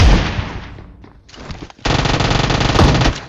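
Shotgun blasts and rapid Uzi bursts in a shooter video game, loud gunfire opening sharply, easing off, then a dense sustained volley of rapid shots until near the end.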